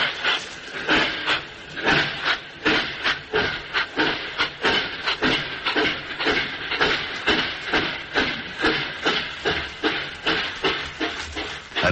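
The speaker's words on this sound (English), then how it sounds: "The trains, I judge from the record case, are supplied by courtesy of the New York Central." A New York Central train recorded for a rail sound record: a steady, regular train of hissing steam chuffs, loud and close, repeating evenly throughout with no voices.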